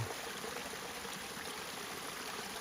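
A small waterfall on the Appalachian Trail makes a continuous, steady rush and splash of flowing water, faint and even throughout with no voices.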